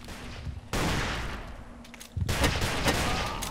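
Rapid pistol fire in the blocky shooter Ace of Spades: two loud bursts of close gunshots with sudden onsets, the second followed by a string of quick repeated cracks amid game noise.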